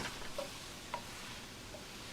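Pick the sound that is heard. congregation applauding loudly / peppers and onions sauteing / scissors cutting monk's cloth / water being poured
peppers and onions sauteing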